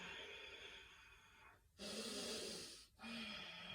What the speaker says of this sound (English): When you're ready, inhale. Nice long breath.